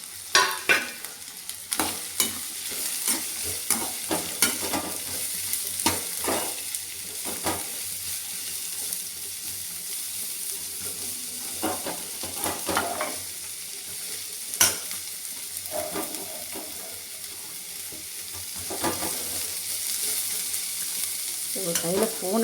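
Bitter gourd fries in sizzling, crackling oil in a pan, with scattered clinks and scraping of a utensil stirring throughout.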